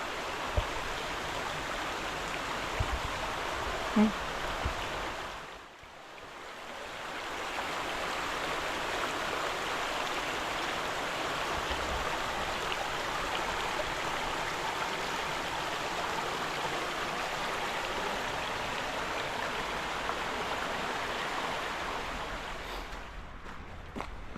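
River flowing beside a countryside walking path, a steady, close rushing of water that dips briefly around the fifth second and otherwise runs unbroken.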